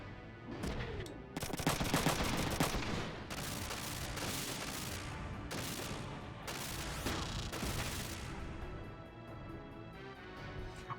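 Shotgun fire in the Front Mission 3 video game, with dense bursts of loud, crackling blasts that come one after another with almost no gaps, close and harsh, with no voices.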